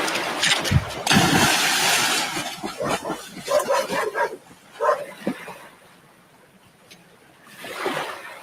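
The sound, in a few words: dogs barking near a running engine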